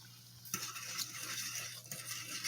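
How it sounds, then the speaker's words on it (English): Rice being stirred into a pot of boiling water, a soft continuous bubbling hiss with spoon swishes starting after a short quiet moment, fairly faint and with no talking. "our water is boiling now. So what we're gonna do is we're gonna put our rice in. I'm gonna stir it a little bit."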